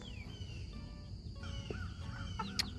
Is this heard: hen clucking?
yes